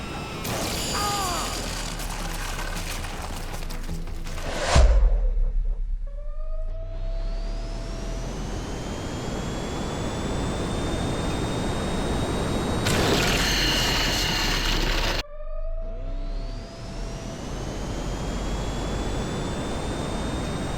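A character is sucked into a jet engine in a GTA game, the steady turbine roar running throughout with a sharp crash-like burst near the start and rising whines returning in waves.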